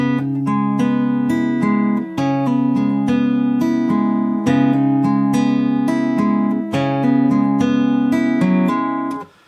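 Guitar plays the opening line of the Life Is Strange intro: clear, rhythmic picked notes with hammer-ons, ringing steadily close up for about nine seconds, no voices.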